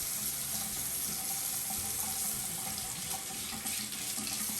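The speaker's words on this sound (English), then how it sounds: "So I've got the water running just to warm it up a bit." Water runs steadily from a sink tap, a continuous close hiss and splash at even volume, with no talking.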